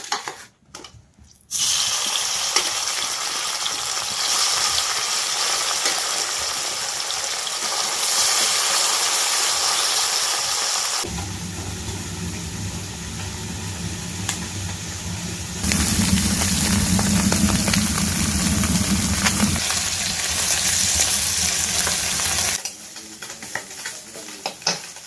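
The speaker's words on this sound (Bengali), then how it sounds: "তেল কিন্তু বন্ধুরা গরম হয়ে গেছে, একে একে মাছগুলো ভেজে নেব।" River fish frying one by one in hot oil in a wok, a loud continuous hiss and sizzle that shifts in intensity as pieces are added and turned, with occasional stirring clatter.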